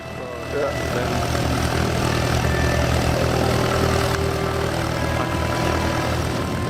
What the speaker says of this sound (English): I hope the engine will start now